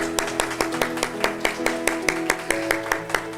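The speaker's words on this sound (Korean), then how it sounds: "감사하다고 우리 박수 한번 쳐드리세요" A congregation at a Korean church Sunday service claps for members honored as prayer servants, producing steady, evenly spaced claps over sustained background tones.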